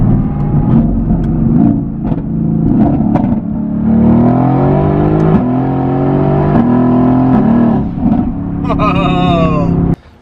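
Renntech-tuned car engine while driving in convoy on country roads, a steady loud drone with rising and falling revs and gear changes throughout, briefly cutting off at the very end.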